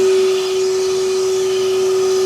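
A vacuum seeder's suction for planting trays whines steadily, a loud, constant single-pitch hum with airy hiss, running alone without talk for a couple of seconds.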